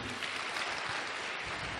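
Sustained audience applause at a seminar, a dense, even wash of clapping from a large crowd.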